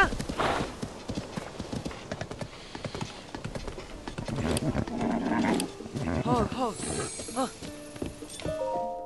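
Horse hooves clop in the video game Zelda: Tears of the Kingdom, rhythmic hoofbeats under game music and animal calls, with a person talking over them.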